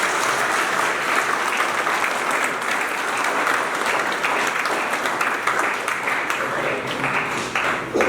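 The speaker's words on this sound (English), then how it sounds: "So can we all give a round of applause to the teachers?" Sustained applause from a school audience honouring the teachers at a North Liberty higher secondary school event, dense steady clapping filling the whole stretch without a break.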